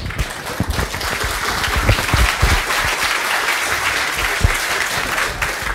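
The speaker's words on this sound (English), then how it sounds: "a big applause for him because he has done a lot of kilometers to come here" Conference audience applauding after a talk, a broad crackling wash of many hands clapping at steady volume, with a few louder nearby claps and faint voices mixed in.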